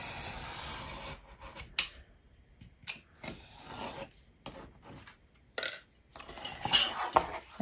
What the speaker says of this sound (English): It's better to use a good sharp knife. And trim off the excess.